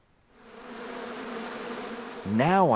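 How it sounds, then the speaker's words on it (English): Hornets swarm in a bush in Broken Sword II, a steady droning buzz that swells in from silence and holds, then gives way to a loud, wavering tonal sound at the end. "Now I knew why that bush was buzzing."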